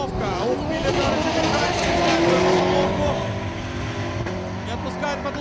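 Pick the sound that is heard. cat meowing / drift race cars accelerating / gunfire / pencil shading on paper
drift race cars accelerating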